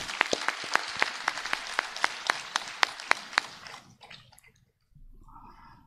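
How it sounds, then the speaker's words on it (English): An audience at a founder's day celebration of a charitable institution claps for the bishop during a flower presentation, distinct rhythmic claps in unison that thin out and stop, followed by quiet room sound. "with a big round of applause"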